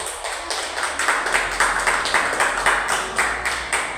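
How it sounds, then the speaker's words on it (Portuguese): A church congregation at a prayer meeting claps in a steady, rhythmic beat to welcome a guest, with many hands together producing a dense, bright pulse that repeats about four times per second, with no voices over it. "Vamos receber a serva de Deus com uma salva de palmas bem alegre."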